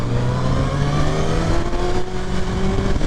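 A 2023 Kawasaki Ninja ZX6R motorcycle engine holds a steady, close, loud drone while cornering, with its pitch gliding slightly upward and wind rush layered over it.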